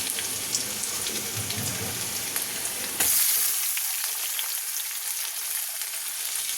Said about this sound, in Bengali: রসুনের সাথে সাথে পেঁয়াজটা দিয়ে দেবো।